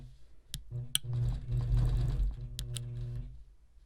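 A sewing machine quilting small retro on-point blocks hums in a short, fairly quiet run with a few sharp clicks at the start and end, with no voice over it.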